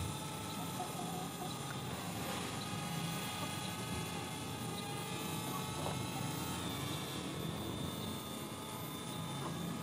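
DJI Spark drone flying an orbit over a park, a steady continuous whirring hum that stays even and moderately loud throughout with no talk.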